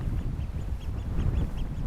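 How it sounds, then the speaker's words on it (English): Repeated high, piping pied oystercatcher calls sound faintly at a distance, several short notes in loose succession over a steady low wind rumble, on a New Zealand foreshore. "I think this one is the pied oyster catcher"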